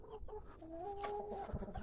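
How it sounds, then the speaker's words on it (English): Chickens cluck with a rooster's short tonal call among them, a close, fairly steady farmyard flock sound with a few sharper peeps near the end. "He's the new rooster, I think."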